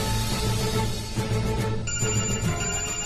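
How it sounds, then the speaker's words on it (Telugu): A telephone rings in a Telugu TV serial scene. The bright, pulsing tone begins about halfway through and sits over a dense, loud background score. "బహుశా అదే ఫోన్ అయి ఉంటుంది. లిఫ్ట్ చేసి మాట్లాడు."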